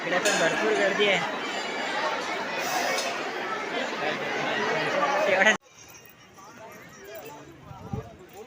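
Many voices murmur together in the crowd at Jivdani temple in Virar, a busy, steady hum of chatter for several seconds that cuts off abruptly to a much quieter background with scattered faint sounds.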